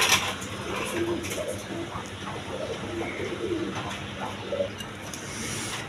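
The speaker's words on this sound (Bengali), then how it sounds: "দোনো জোড়া খুব কোয়ালিটি সম্পন্ন কবুতর" Pigeons of various breeds at a wholesale pigeon sale, cooing softly in a low, repeated murmur beneath steady background hubbub and some faint talk.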